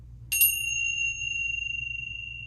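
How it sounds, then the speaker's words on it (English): A single bright bell strike rings out and sustains a long, clear tone that slowly fades, with a soft low hum underneath. "I'm going to ring the bell"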